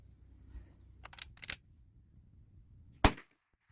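A single sharp, loud .22 LR rifle shot fired with Winchester M22 ammunition during a budget ammo test, preceded by a few quieter mechanical clicks and followed by a brief decay into silence.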